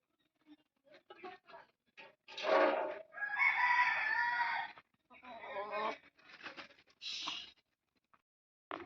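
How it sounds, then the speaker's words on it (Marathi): A rooster crows nearby, a loud drawn-out call, surrounded by shorter clucks and calls from other fowl. "कोंबडे कसे दिसतात बघा"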